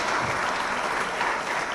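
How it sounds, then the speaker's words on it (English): A conference audience gives a medical panel a loud, dense round of applause, the clapping filling the space evenly from start to finish with no voices over it. "Can we please have a huge round of applause for the three of them?"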